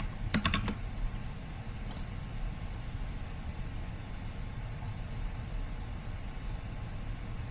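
Someone types code on a computer keyboard: a short burst of close clicks near the start and one more click a moment later. A steady low background hum runs through the rest, with no talking.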